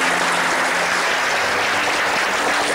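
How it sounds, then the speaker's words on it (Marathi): A dense, steady wash of audience applause fills the space, many hands clapping at once in an even roar with no voices above it. "एकदा टाळ्या झाल्याच पाहिजे सगळ्यांसाठी"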